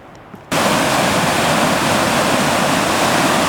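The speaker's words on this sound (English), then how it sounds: "Nice good sized waterfall." A good-sized waterfall along a mountain stream, a loud, constant roaring rush of water that starts abruptly after a brief quiet moment and continues steadily close by.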